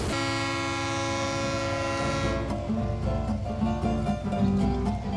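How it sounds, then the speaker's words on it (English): A large freight train pulls out, its horn blaring in a long, loud sustained blast before giving way to the heavy rumble and clatter of wagons rolling steadily past nearby. "As the beast pulls out with the migrants on board, it becomes much more than a regular freight train."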